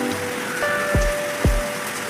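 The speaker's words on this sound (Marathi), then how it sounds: "इकडे मोसम बघा किती छान पाणी येत आहे आज" Heavy rain pours down outdoors as a steady broadband hiss, broken by two sharp, low dripping thuds about half a second apart.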